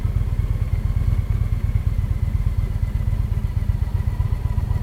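A motorcycle engine runs steadily while being ridden, a loud close low throb with a rapid even pulse that carries on throughout, no talking.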